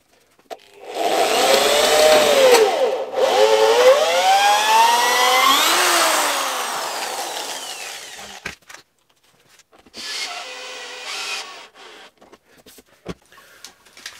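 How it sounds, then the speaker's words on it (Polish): Electric drill boring a hole in a cabinet carcass for a confirmat screw, a loud whirring motor with pitch rising and falling for several seconds, then a shorter second burst after a pause. "wiertarką wiercimy jeden otwór, przykręcamy konfirmat i dopiero później wiercimy drugą stronę"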